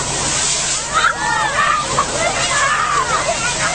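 Water sloshing and splashing in a steady churn, with excited voices and chatter mixed in over the rushing sound.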